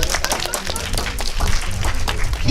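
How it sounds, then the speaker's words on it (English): Audience clapping in a room, a brief burst of applause that runs steadily for a couple of seconds, fairly loud and close. "Round of applause for Vlad,"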